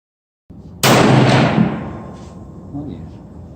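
A Browning AB3 bolt-action rifle in .243 fires a single sharp shot close by, its report decaying over about a second into a faint tail, with a little room noise after.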